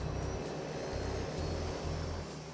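A de Havilland Twin Otter turboprop taxis for takeoff to Tahiti, its steady engine drone and propeller hum filling the clip at a constant, moderately distant level, with no talking.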